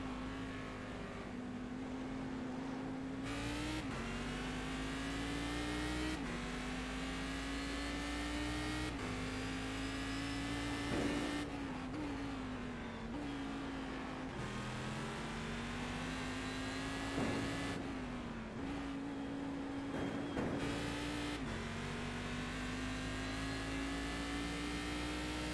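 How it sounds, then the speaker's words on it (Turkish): A video-game car engine drones steadily and loudly for the whole stretch, its pitch climbing and dropping with each gear change and rev, with occasional tire noise and no talking. "Araba sesini biraz arttırdım."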